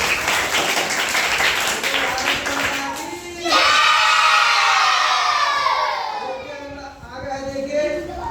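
Students in a school maths class clap and cheer together, a loud burst of hand-claps mixed with excited children's shouts that swells midway and then tapers off.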